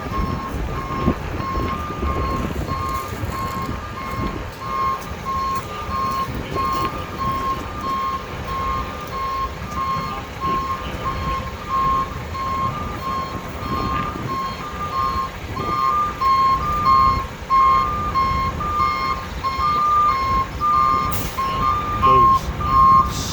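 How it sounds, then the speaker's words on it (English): A dump truck reverses at a watermain excavation site, its backup alarm sounding a steady series of repeated beeps over a continuous low engine and machinery rumble. "The loader operator is signaling the dump truck to bring that stone back."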